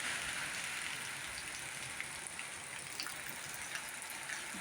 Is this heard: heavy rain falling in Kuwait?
yes